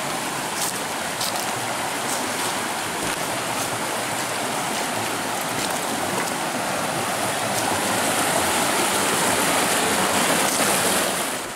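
A stream rushes past its bank in a steady, loud, broadband wash of flowing water that fills the whole span without a break or any voices.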